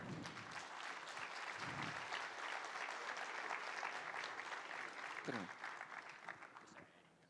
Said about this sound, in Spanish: Pido fuertes aplausos nuevamente, por favor, para el doctor Alexandre.